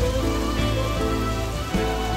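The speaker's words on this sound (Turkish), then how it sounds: "Yağmur damlalarının yanağına düştüğünü hisset." Rain falling, a loud, dense, continuous patter of drops close by, with no talk over it.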